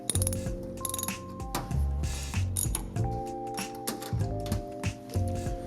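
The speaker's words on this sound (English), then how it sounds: "we're gonna take off the side panel using a ratchet with a 7/16 socket and just 2 bolts" Ratchet wrench fitted with a 7/16 socket turning out side panel bolts on a Broaster commercial fryer, giving rapid repeated clicking bursts with brief pauses, close and fairly loud, with no one talking.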